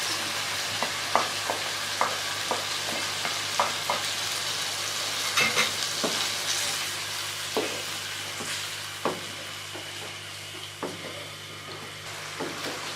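Chicken fries with yogurt in a pot while being stirred for Mecca-style chicken biryani, a steady soft sizzle with repeated scraping clicks of the spoon against the pan throughout.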